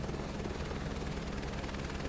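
A helicopter lifts off in Microsoft Flight Simulator 2024, its steady rotor and engine drone filling the cabin as a constant, even rumble with no talking.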